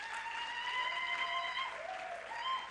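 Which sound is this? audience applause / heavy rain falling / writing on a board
audience applause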